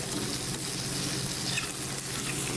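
Pasta being stirred in a skillet of hot oil and garlic, giving a steady, close, hissing sizzle with faint scraping under it.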